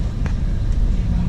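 A car rolls over a rough, bumpy road in a flood-damaged area, giving a dense low rumble with uneven thumps, close and continuous for a moment with no talk over it.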